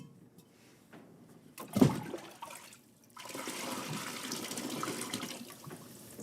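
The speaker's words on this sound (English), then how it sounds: "You want pouring water or splooshing water?" Water is dunked with a sudden splash, followed after a short pause by a steady pour that continues to the end. The sounds are fairly soft and nearby.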